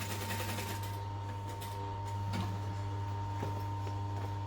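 A sewing machine stitches a duffel bag, giving a steady mechanical hum with a fine rapid ticking of the needle. It runs continuously and fairly quietly, with a few faint clicks from handling the fabric.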